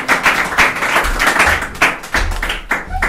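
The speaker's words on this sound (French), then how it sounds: "Applaudissez pendant que je bois ça." Audience at a French stand-up style conference applauding, a dense, steady wash of many hands clapping close and loud throughout with no talk.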